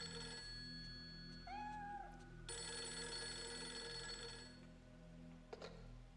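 In the PS2 horror game Project Zero 3: The Tormented, a faint telephone rings in a quiet, eerie room alongside a brief cat meow, with steady tones and a soft background hum throughout.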